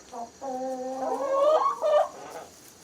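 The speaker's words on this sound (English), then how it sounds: "Buff Orpingtons are your friendliest breed of chickens." A single Buff Orpington chicken gives a drawn-out, warbling cluck that rises and falls, close by, over a faint background hiss.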